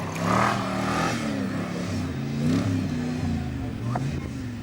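A classic Rover 3.9-litre V8 engine revving at a car show, rising and falling in a few bursts under steady nearby chatter from people talking.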